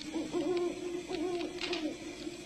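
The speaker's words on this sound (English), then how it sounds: "Just a hoot owl." An owl gives a short series of soft, low hoots close by in a quiet night setting, with no one speaking.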